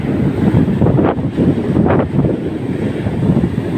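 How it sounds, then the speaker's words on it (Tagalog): Loud, continuous roar of heavy surf with rushing water and buffeting wind across the microphone, swelling twice as big waves break close by on the sea at Infanta, Quezon, in December. "Grabe yung alon."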